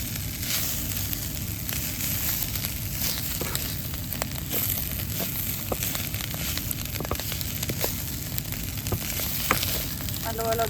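Fried fish being stir-fried into fish chutney in a pan, a steady close sizzle with scattered sharp crackles and occasional scraping clicks of stirring, no talk.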